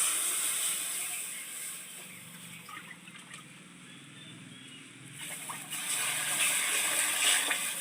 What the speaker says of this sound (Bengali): এবার কড়াইতে খুদের ভাত রান্না করার জন্য আমি জল দিই।